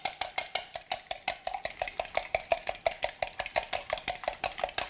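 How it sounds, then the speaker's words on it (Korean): Rapid, steady clinking of a utensil whisking eggs against a bowl, a regular metallic tapping rhythm close by. "계란을 풀어주세요."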